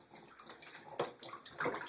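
A baby kicks and splashes in bathtub water at bath time, producing a steady, soft run of sloshing and slapping water close by, with a few sharper splashes and no speech.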